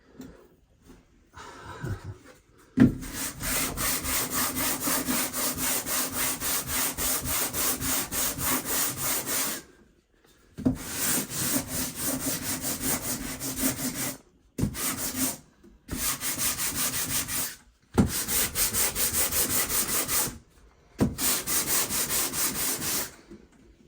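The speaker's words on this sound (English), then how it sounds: "got it sanded pretty good, so now less of a bump." Repeated bursts of sanding on wood or wall material around a light fixture in a tiny restroom, steady rasping strokes in several runs separated by short pauses, close and fairly loud with no talking.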